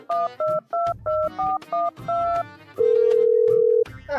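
A telephone being dialed: a quick series of eight or so clear touch-tone beeps in an uneven rhythm, then a single longer steady tone, heard close up without talk.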